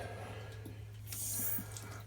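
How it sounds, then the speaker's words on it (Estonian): A water tap feeding a bottle washer is opened, giving a steady hiss and rush of running water with a brief splashy surge partway through, close and fairly quiet, with no talking. "Ja nüüd teen kraani lahti."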